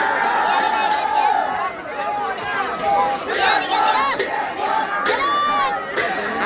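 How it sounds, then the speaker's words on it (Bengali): A large crowd at a boat race cheers and shouts in celebration after the Al Amin boat wins, loud overlapping voices and whoops rising and falling throughout. "আলামিন নৌকা জিতার পরে বিজয় উৎসব পালন করছে"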